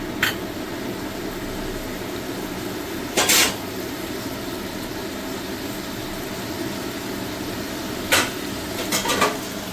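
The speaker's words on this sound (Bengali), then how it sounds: "এবার আমি এটাতে দিয়ে দেবো চিকেন আর ডিমটা যেটা ভেজে রেখেছিলাম, পুরোটাই আমি এটাতে দিয়ে দিলাম।" Chicken and fried egg stirred into rice frying in a home-kitchen pan, giving a steady low sizzle with a few sharp spatula scrapes and clinks against the pan at intervals, no talking.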